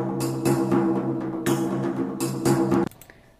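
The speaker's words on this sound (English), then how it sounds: "So we take a listen to the frame drum." Frame drum within a layered orchestral war-drums score, punchy accented hits repeating over a sustained tonal background for about three seconds before cutting off, close and full, with no one talking.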